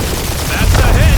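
Rapid spaceship gunfire in a space dogfight from the Guardians of the Galaxy game, a loud dense burst of blasts with engine roar, brief and close.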